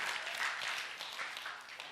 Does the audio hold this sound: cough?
no